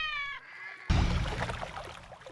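A cat meowing as a sound effect in a religious story, a single clear drawn-out meow close up, followed by a burst of dense noisy sound.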